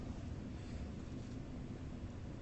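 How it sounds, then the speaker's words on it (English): Wind gusts buffet the microphone outdoors at night beside the New York City skyline, a loud, steady low rumble with no voices present. "It's just windy."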